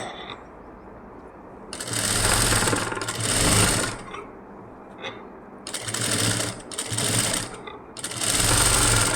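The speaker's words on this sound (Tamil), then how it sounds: "தைச்சிட்டு வரேன்." A sewing machine stitches along the edge of an embroidered blouse in several loud, close bursts of rapid mechanical whirring, with short pauses between runs.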